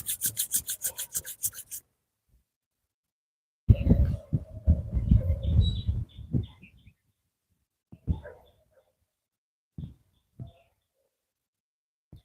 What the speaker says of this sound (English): and rubbing the hands together.